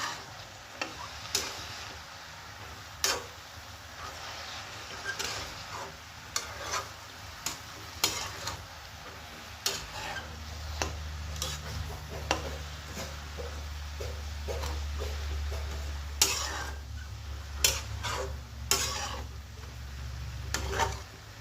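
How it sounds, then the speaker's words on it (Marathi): A vegetable bhaji is stirred in a pan on the stove, with a spatula making sharp clicks and scrapes at an irregular beat over a soft, continuous sizzle. "आणि याला आपण हलवून घेऊ, चांगलं मिक्स करून घ्यायचं."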